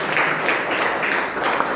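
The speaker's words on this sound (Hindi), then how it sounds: "जोरदार तालियां बजाएं" Applause from an audience at a scholarly seminar, a brief, dense patter of many hands clapping at steady loudness.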